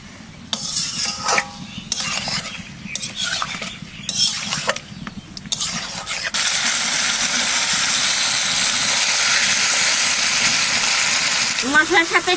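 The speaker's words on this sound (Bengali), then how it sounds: "মশলাটা তো একটু কষাই নিলাম, এখানে মাছ দিয়ে আর একটু কষাবো।" Pieces of fish fry in a spicy paste of turmeric and masala in a pan, first with scraping stirs and clinks, then a loud, steady sizzle that stays close, with a voice talking at the start.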